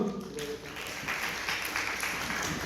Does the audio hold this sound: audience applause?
yes